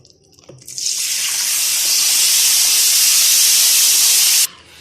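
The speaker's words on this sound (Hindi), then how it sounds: "अब हम इसके अंदर पानी ऐड करेंगे।" Water poured into sooji roasting in hot ghee for halwa sets off a loud, sudden hiss of steam and spitting that holds steadily for several seconds, then cuts off abruptly.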